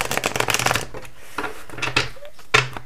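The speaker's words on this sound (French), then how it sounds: "Juste bien brasser les arcanes mineurs ici." Tarot cards of the minor arcana shuffled by hand, giving quick papery riffling bursts and soft slaps close by, with brief pauses between rounds.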